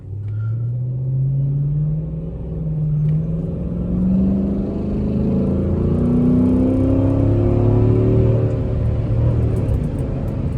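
A Chrysler 300's engine revs in rush-hour traffic: a close, steady low rumble with pitch that climbs and falls in repeated sweeps as it accelerates, with no voices.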